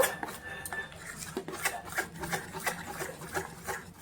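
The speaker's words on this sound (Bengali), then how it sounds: "তো এবারে এটা কিন্তু খুব ভালো করে মিশিয়ে নেব" Poya pitha batter of urad dal and jaggery is beaten in a bowl, making quick repeated scraping and clinking strokes of a utensil against the bowl, close and fairly even in rhythm.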